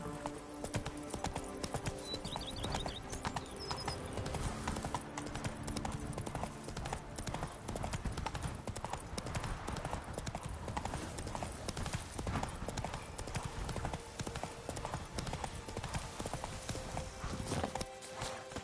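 Horse hooves clip-clopping steadily in the video game Witcher 3, a continuous even gallop rhythm, loud and close, with faint game ambience.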